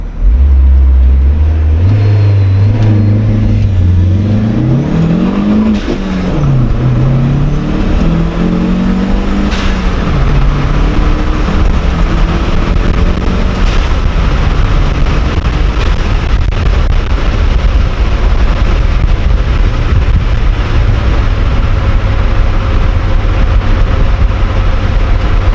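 Turbocharged Hyundai Tiburon engine revving hard and misfiring, loud and close, with rising and falling revs early, then a sustained rough drone with pops and stumbles throughout; no talking.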